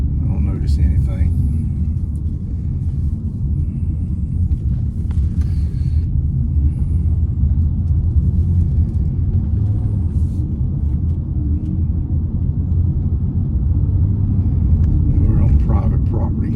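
A 2000–2005 Ford Taurus with freshly installed front brakes rolls slowly through a parking lot, its engine and road noise forming a steady low rumble from inside the cabin while a person talks.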